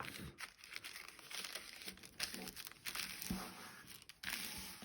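A paper coffee filter being folded in half by hand, soft close crinkling and rustling of thin paper throughout, quiet and with no talk.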